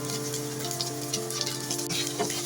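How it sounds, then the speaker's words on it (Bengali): Chopped garlic and onion frying in hot oil for a red amaranth greens dish, a steady dense sizzle that stays close and even throughout with faint crackles on top. "তিন চার সেকেন্ডের মতো ভেজে নেওয়ার পরেই কিন্তু এর সাথে দিয়ে দিয়েছি পেঁয়াজ কুচিটা"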